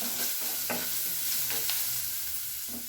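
Raw shrimp fry in a pan with green chili paste, chili powder and a pinch of turmeric, giving a steady close sizzle broken by a few scraping stirs of the spoon.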